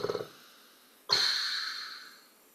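A voice imitates a large creature snoring: two quick snorting breaths, then after a pause one long, loud rasping inhale with a purring rattle that slowly fades.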